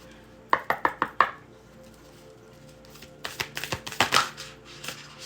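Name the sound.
shuffling a deck of self-care cards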